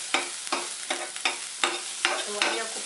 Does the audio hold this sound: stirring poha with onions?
yes